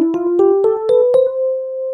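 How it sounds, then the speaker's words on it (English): Major scale played note by note in ascending order, seven clean sustained tones stepping upward evenly and then fading. "you can build a major scale like the one that you just heard."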